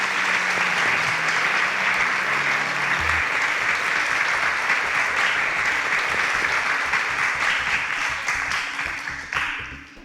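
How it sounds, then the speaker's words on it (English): Studio audience on a TV show breaks into sustained, even applause that stays strong throughout and begins to thin out toward the end. "Please, a round of applause for SN1."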